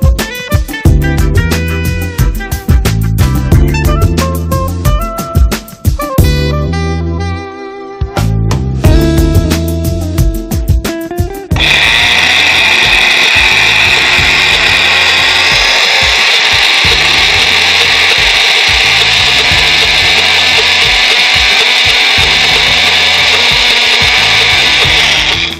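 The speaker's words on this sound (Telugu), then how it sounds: "దీన్ని మిక్సీ పట్టుకోవాలి." A kitchen mixer grinder whirs loudly and steadily as it blends green chillies, salt, coriander leaves and tamarind pulp into a chutney, coming in after a stretch of clattering knocks and bumps.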